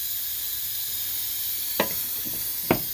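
Roux browns in a pan for a veal blanquette, a steady close hiss of sizzling fat with two faint clinks from stirring, and no talking.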